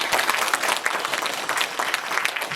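A room full of people at a unification workshop claps in a dense, steady burst of applause that carries evenly for a few seconds with no voices over it.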